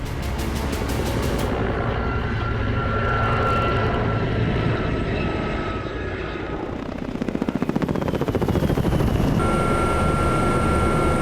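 A helicopter in flight on a military raid route back toward Dnipro, a loud, steady engine and rotor roar running continuously throughout, with a faster rhythmic thumping growing stronger in the last few seconds.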